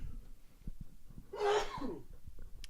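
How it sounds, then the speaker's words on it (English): A single sneeze bursts out over a murmuring, noisy background, close to the microphone and fairly loud against the quiet surroundings. "I'm about to sneeze"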